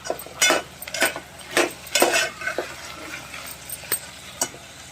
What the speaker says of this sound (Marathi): घेवडी घातले आणि मग